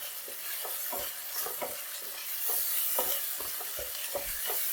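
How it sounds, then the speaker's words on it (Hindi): Garlic fries in a pan for chicken achar gosht, a continuous hissing sizzle broken by repeated soft scrapes as it is stirred, close and steady with no voices. "अब इसमें लहसुन डाल के फ्राई करते हैं"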